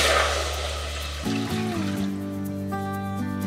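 Water pours into a pan for vegan tonkotsu-style ramen, a short trickling fill that gives way to a steady filling tone as the pan takes the two cups, heard close and alone.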